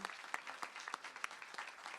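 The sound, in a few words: audience round of applause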